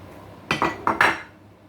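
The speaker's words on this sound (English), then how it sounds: "So stir onions in" A utensil stirring in a pot, four quick metallic clinks and scrapes in a brief burst, close by with no talking.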